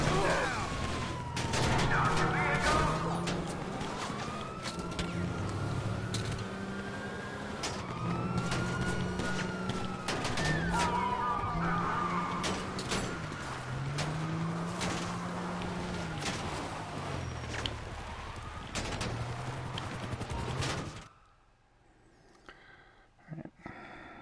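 Gunfire in a video game from enemies shooting at a custom insurgent pick-up truck: dense, rapid shots and impacts crackle continuously over a wailing siren-like tone and engine rumble, then cut off abruptly near the end.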